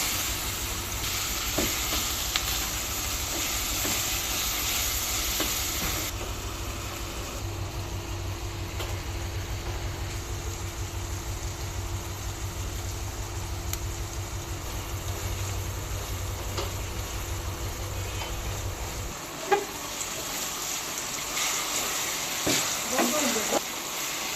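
Chopped potatoes fry with salt and turmeric in hot oil, a steady close sizzle running the whole time with a few clinks of stirring and no speech over it.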